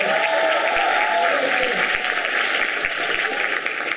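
Audience applause for an actor at a school theater adaptation of Lisbela e o Prisioneiro, steady loud clapping sustained for several seconds with a voice speaking over it.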